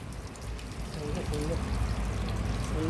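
Drinking water poured over a car at a government office, a steady splashing trickle under a voice.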